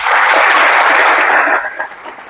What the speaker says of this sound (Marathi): पोलीस डिपार्टमेंटसाठी खऱ्या अर्थानं आधी टाळ्या झाल्या पाहिजे.